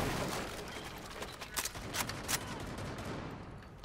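Rainbow Six Siege gunfire in a busy round, a continuous rattle of shots with several sharper bursts standing out in the middle, steady and fairly loud throughout with no clear talking.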